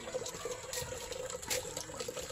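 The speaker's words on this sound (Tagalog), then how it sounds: "dito po kami nagigib ng tubig, mahina" Water runs from a tap in a steady, fairly quiet stream, with light splashing and trickling.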